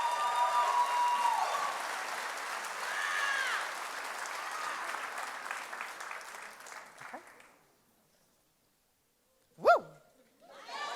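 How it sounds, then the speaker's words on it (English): A crowd at a South Asian Society cultural show applauds the outgoing board after speeches, with sustained clapping and cheering that fades into silence before a sharp whoop rings out. "Can we please have another round of applause for the"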